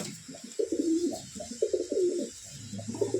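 Caged Giribaz Delhi pigeons coo in soft, throaty bursts, several rolling phrases repeating close by against a quiet background, with no one speaking.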